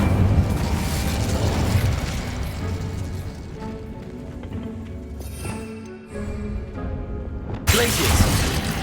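Fiery Incendio spell burst from the Hogwarts Legacy game, a loud rumbling whoosh of flame and crackle over a steady game soundscape, with a fresh blast near the end.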